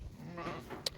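A single brief bleat rises from a sheep and goat pen on a farm, a short nasal cry close by, followed by a small sharp click.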